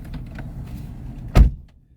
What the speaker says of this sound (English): close your door, bud?